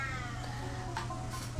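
A pet cat meows faintly and steadily over a low, continuous hum, with a couple of soft clicks near the end.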